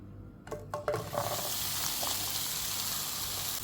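Okra dropped into hot coconut oil to fry for a Kerala-style ladies finger stir fry: a few clattering thuds as it lands, then a steady, loud sizzling hiss that continues to the end.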